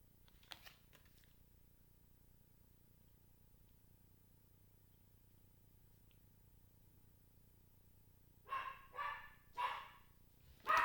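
A small dog barks indoors in a quiet room: a faint yelp near the start, then a near burst of three or four sharp barks toward the end after a long hush.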